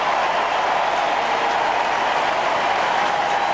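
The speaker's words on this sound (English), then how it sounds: "And a huge roar goes around the ground." A stadium crowd roars at a 2001 Sydney versus St Kilda Australian football match, a broad, steady wash of cheering noise that stays loud and unbroken throughout.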